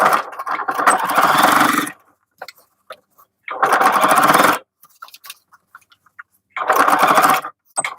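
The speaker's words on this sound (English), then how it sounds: "Now we want to sew the sides down after we've done that." A sewing machine stitches the sides of a tote bag in three loud bursts, each a couple of seconds long, with quiet pauses and small handling noises between them.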